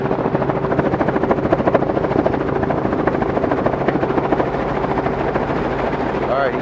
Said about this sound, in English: The helicopter's coming in hard.